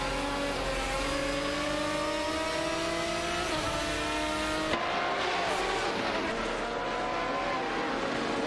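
Engines of Koenigsegg CCGT race cars roar steadily in an AI racing video game, with layered tones rising and shifting as several cars run close together, loud and continuous throughout.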